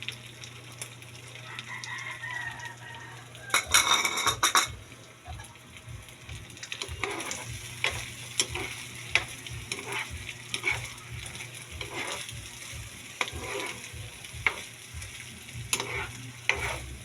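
Small pieces of potato fry in hot oil in a pan and are stirred, with a steady sizzle, bursts of louder spattering and repeated scraping clinks from the utensil. A rooster crows faintly somewhere in the background.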